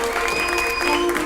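A television game-show studio audience applauds a contestant walking onto the stage, a short, loud burst of dense clapping under a sustained musical tone.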